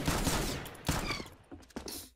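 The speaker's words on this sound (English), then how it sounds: "I shot my shotgun, dude." Shotgun fire in the Roblox game Arsenal, a dense burst of loud, crackling blasts close up, with a few sharper reports following before it cuts off; no talk.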